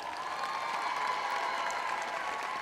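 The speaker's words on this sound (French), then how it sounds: "Et applaudissons chaleureusement les bénévoles" An audience applauds volunteer robot inspectors at an event, a dense, even wash of many hands clapping at steady volume with a faint crowd murmur.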